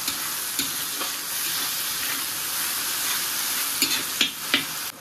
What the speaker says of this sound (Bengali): তো এবার দেখো কেটে রাখা টমেটোও দিয়ে দিলাম এই পেঁয়াজের সাথে সাথে, তাহলে টমেটোটাও নরম হয়ে যাবে।